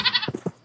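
Minecraft cows low in short bursts, a couple of quick nasal bleating calls close by and alone, with no talk over them.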